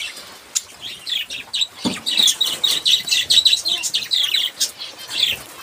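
Pet budgerigars chirp in quick, bright bursts while being fed tulsi leaves, close and lively, with a soft flutter of wings and light rustling, and no one speaking.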